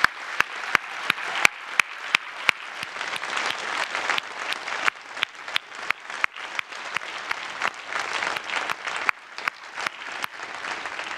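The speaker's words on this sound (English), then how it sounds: "I would like now to invite all of us to applaud once again the FDUF" An audience at a university Master's graduation ceremony applauds steadily, a dense, loud wash of clapping with a few sharp close claps standing out near the start, continuing without pause throughout.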